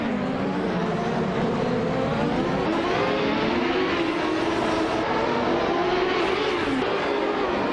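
Lola T9500 race car engine in a racing video game, a steady loud droning roar with slowly rising and falling pitch, continuous throughout with no talk.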